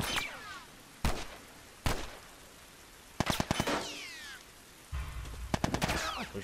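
Gunfire in The Last of Us Remastered, with single sharp shots and rapid bursts ringing out at irregular intervals over a hissing, rain-like background, loud and close.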